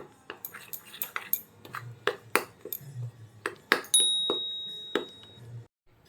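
A spoon clinks and scrapes against a bowl while mango pulp is mixed with semolina and flour, giving a series of sharp, close metallic taps at an uneven rhythm, with a quiet soft stirring beneath them.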